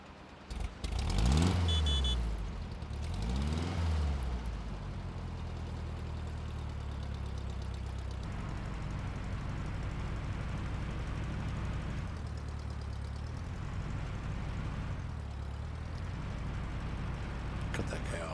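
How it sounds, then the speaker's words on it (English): A small Volkswagen car in Farming Simulator 22 revs twice sharply at the start, then settles into a steady, moderately loud engine hum while driving, with someone talking over it. "let's take our little Volkswagen and go home"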